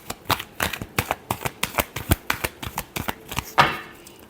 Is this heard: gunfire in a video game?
no